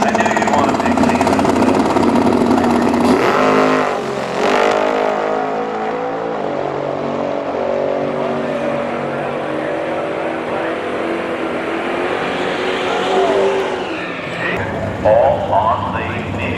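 Street-legal Ninja superbike and cars drag racing, with loud engines roaring and revving throughout, a sweeping acceleration pass midway, while people talk over the noise.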